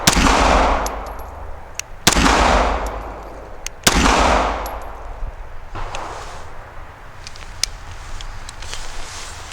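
Three sharp, loud gunshots from a Smith & Wesson Shield EZ .380 pistol, spaced about two seconds apart, each with a ringing decay, followed by faint handling clicks and outdoor ambience.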